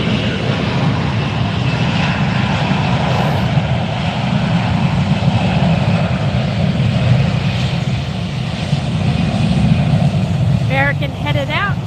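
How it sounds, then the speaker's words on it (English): A Delta Airbus A321 airliner taxiing, with a steady loud engine roar and whine throughout while a person talks over it. "Right now you are watching a Delta A321 taxi up"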